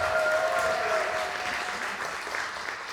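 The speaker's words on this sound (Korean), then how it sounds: "여러분 다시 한번 큰 박수 부탁드리겠습니다" Applause from a concert audience at a percussion stage performance, a steady wash of clapping that slowly fades toward the end.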